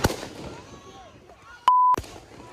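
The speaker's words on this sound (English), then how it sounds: "Then the shots ring out." Gunshots at a street protest in Wisconsin: a few sharp, loud reports, the first alone and two more close together about a quarter second apart, with a steady electronic tone between them over a murmur of crowd voices.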